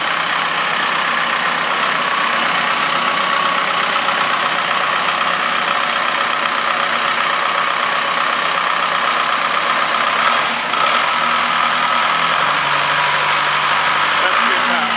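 A 4T390 diesel engine runs loud and close with a steady, rough mechanical drone, holding a fairly even revved-up pitch throughout with only a brief dip near the end.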